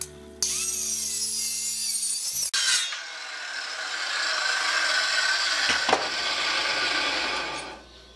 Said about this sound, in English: I've got a chainsaw out and I'm cutting this piece of wood